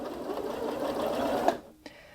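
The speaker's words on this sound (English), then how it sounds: "the machine will sew backwards, and when I let go of that button, it will sew forwards" A Janome Memory Craft 8200QCP sewing machine stitching in reverse, a steady close mechanical whirr for about a second and a half that stops with a click and a brief tap after.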